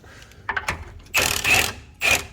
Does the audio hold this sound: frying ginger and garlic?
no